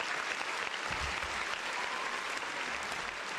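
Sustained applause from a live audience, steady and dense from start to finish with no talk over it, greeting a returning guest on a sports talk show.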